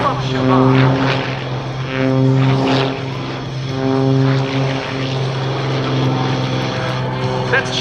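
A GB1 GameBird aerobatic propeller plane roars through an air show routine at MCAS Cherry Point, its engine droning loud and steady with pitch swells as it rolls and passes.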